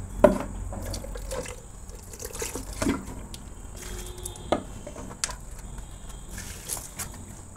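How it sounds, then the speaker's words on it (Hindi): Water from a bucket splashes and pours onto flowers on a rooftop, in irregular close splashes and trickles, with no talk. "तो इधर भी पानी डालना।"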